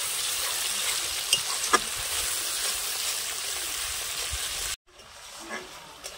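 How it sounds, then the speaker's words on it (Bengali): A paste of ground ginger and cumin fries in hot oil with a steady, close hiss and sizzle that drops abruptly to a quieter sizzle near the end. "এখন আদা আর জিরেটা ভালোভাবে কষিয়ে নেব যাতে কাঁচা গন্ধটা চলে যায়।"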